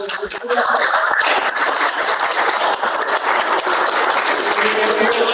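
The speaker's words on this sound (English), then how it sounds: "Another round of applause for the Honourable" A large audience gives a loud, dense round of applause after a keynote address at a Samoan national development event, with cheering mixed into the sustained clapping.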